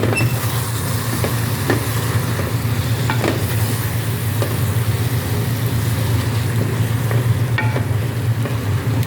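Cumin, turmeric, cinnamon powder, paprika and masala fry in a pan while being stirred, giving a steady, close sizzle broken by irregular scraping clicks of the spoon.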